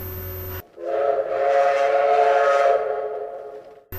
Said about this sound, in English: using Henry's whistle, he gave the special signal which meant that he wanted help up the hill